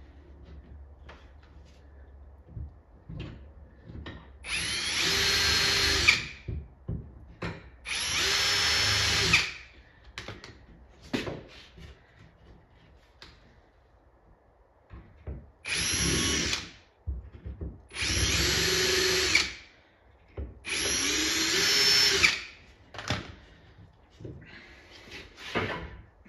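Power drill whirs in five separate bursts of a few seconds each, spaced by short pauses and handling clatter, while an arcade cabinet is being restored; no voices.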